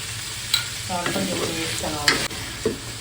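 Vegetables and masala powder are stirred in a frying pan with sizzling oil. A spoon scrapes and knocks against the pan several times, and the frying hiss continues throughout.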